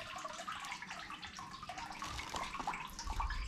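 Water splashes and runs over a component of a septic system during installation maintenance, a continuous close wash of trickling and splattering that swells slightly louder toward the end.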